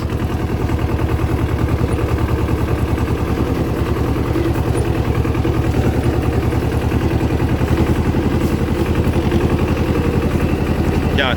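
A Goldoni garden tractor engine runs steadily as the machine is driven along a narrow track through walnut orchards, a close, even, rapid chugging with no pauses.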